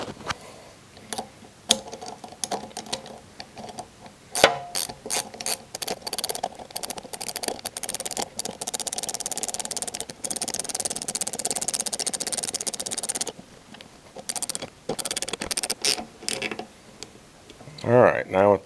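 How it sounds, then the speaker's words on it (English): A 10 mm ratchet tightens self-locking nylon nuts and washers on a GPS mount on a Triumph Tiger 900 motorcycle. Rapid clicking bursts and mechanical rattles come up close and fairly loud, with short pauses between runs and no talking. "just for reference, this is a 10 millimeter ratchet that I'm using"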